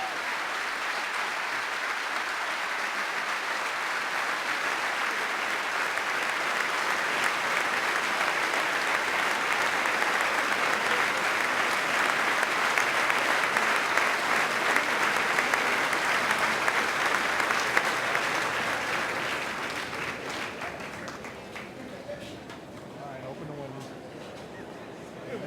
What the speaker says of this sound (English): One more round of applause, President William Jefferson Clinton.